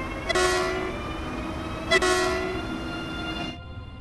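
An electric train in the video game Train Sim World 2, on the Munich–Augsburg main line, gives two electronic horn toots, holding a steady harmonic tone that cuts off abruptly.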